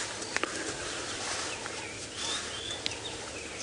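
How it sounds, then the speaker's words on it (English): Wild birds calling at sunrise from a safari drive vehicle, scattered short chirps and whistles at middle distance over a steady hiss of outdoor ambience. "there's a massive amount of bird calls around us"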